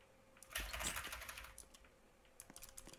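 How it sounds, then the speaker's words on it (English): Quick typing on a computer keyboard: a fast run of soft clicks, with a denser burst early and scattered keystrokes after it, heard close and faint with no talking. "Yes, you're typing."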